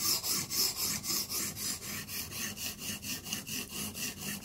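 A knife is stroked across a Blitz 360 sharpener in steady, even back-and-forth passes, about a dozen rasping strokes close up and fairly quiet, with no talking.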